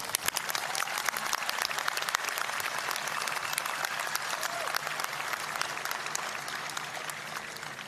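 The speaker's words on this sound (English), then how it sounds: "All right, a big applause to our JRTC team, please." Audience applause for a JRTC team at the Auburn High School 2025 graduation ceremony, steady dense clapping from a large crowd throughout, loud and continuous with no talk over it.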